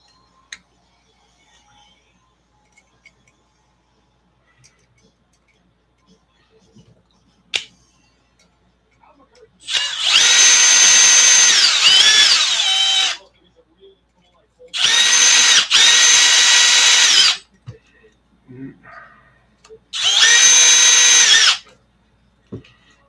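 Power tool driving bolts into an ARRMA RC car during reassembly, three loud whirring bursts of a few seconds each separated by pauses, with faint handling clicks in between.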